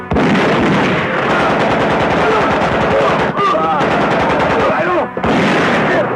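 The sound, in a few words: gunfire from guns in a shootout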